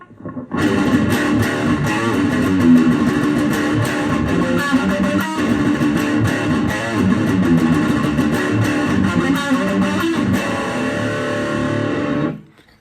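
Heavily distorted electric guitar chugs through a dense, loud riff for about twelve seconds, steady and driving before stopping abruptly.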